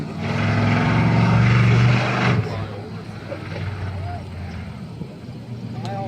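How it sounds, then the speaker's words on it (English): Military aircraft make a ceremonial flyover from an Air Force Base above a raceway, a loud propeller-engine drone that swells and then fades into crowd and track noise, with an announcer talking. "here's another ceremonial flyover from the Air Force Base"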